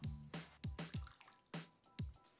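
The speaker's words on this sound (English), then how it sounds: "Pour in the amazing broth." Ramen broth pours and splashes into a bowl in short bursts, several quick glugs and drips close by with brief pauses between, no talking.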